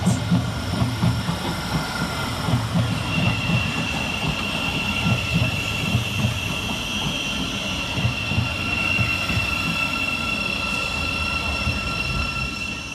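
A Thameslink Class 700 train, unit 700 114, pulls out of Farringdon station with a rumbling, rhythmic wheel clatter and a sustained high whine and squeal, loud and close for the whole stretch.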